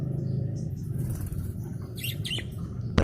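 Budgerigar parakeets give brief high chirps and tweets over a steady low background hum, faint and scattered across a few seconds.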